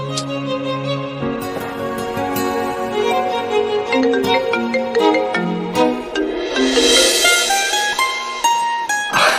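A mobile phone ringtone for an incoming call plays loud and alone, a bright melodic electronic tune of repeating tonal notes that swells toward the end.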